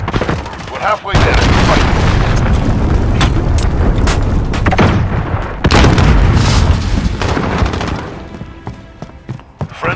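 Heavy booming explosions from a cruise missile strike in Call of Duty Modern Warfare, with loud blasts, rumbling debris and gunfire around them, while a voice speaks briefly over the battle.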